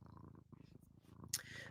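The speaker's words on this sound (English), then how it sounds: "you can hear the cat purring into the microphone." A close cat purr, low and rumbling, steady for a couple of seconds with a brief brighter rustle near the end.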